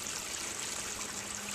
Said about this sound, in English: Water flows from this tank over into this tank